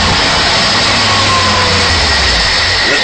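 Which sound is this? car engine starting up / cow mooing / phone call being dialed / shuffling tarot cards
car engine starting up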